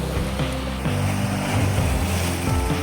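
Sea waves wash in at Pulimoot Beach in Azhithala, Kasaragod, a loud, continuous rush of surf with gusty wind, no voices.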